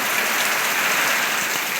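Heavy rain in a sudden storm, a loud, even, dense roar of downpour from start to end with no talk.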